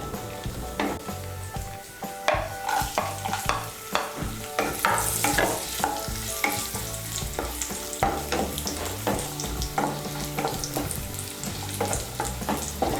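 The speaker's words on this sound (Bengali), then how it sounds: "এর মধ্যে আমি দিয়ে দিচ্ছি কাজু বাদাম, কাজু বাদামগুলো দিয়ে একটু নাড়াচাড়া করে নিয়ে এর মধ্যে আমি কিশমিশগুলো দিয়ে দেব" Cashews and raisins fry in hot oil in a pan while a spoon keeps stirring them, for a paneer fried rice. A steady close sizzle runs throughout, with frequent scraping strokes of the spoon and no talking.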